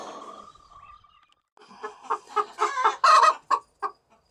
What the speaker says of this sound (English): He's a light Sussex rooster.